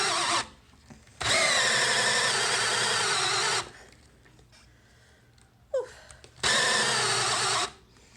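A power drill bores a 1 1/4 inch hole through wood while building a garage clothes rack, in two loud sustained bursts separated by a quieter pause of rattling and handling.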